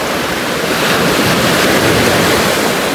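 Rough sea surf crashing continuously, a loud dense roar of breaking waves with heavy wind rumble on the microphone and no pauses.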